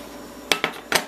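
Green bean casserole scraped and dumped into a sprayed baking dish, giving three brief clinking, scraping knocks of utensil against dish over a quiet kitchen background.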